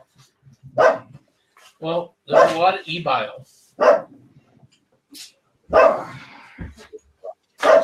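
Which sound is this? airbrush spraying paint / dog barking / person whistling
dog barking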